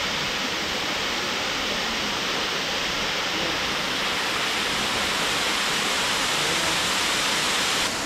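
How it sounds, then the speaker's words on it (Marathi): Abbey Falls, a waterfall in Coorg, roars with a steady broadband rush of falling water, loud and continuous throughout with no voices over it. "मस्त आवाज येतोय पाण्याचा"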